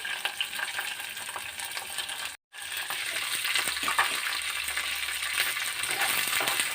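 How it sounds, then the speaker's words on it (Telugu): Ivy gourds fry in a pan and are stirred from time to time, with a lid put on now and then. A steady, loud sizzle runs throughout, broken by one brief silence and by scraping stirs, with no talking. "ఇలా మధ్య మధ్యలో కలుపుకొని వేయించుకుంటాం"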